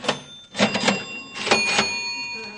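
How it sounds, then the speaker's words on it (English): Cash registers ringing: a few bright bell dings with mechanical clatter, mid-distance and moderately loud, coming in short bursts with a pause between them. "Those sound like cash registers ringing to me."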